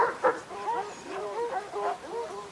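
Several dogs bark and whimper together in a continuous run of yips and whines with rising and falling pitch, moderately close, with no clear talk.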